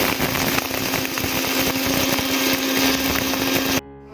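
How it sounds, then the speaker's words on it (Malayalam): A mixer grinder whirs at full power, grinding roasted spices into masala for mutton majboos. The loud, steady drone holds for nearly four seconds and then cuts off abruptly. "അപ്പോൾ ഇതെല്ലാം നമുക്കൊന്ന് മിക്സിയിലേക്കിട്ടൊന്ന് അടിച്ചെടുക്കാവേ."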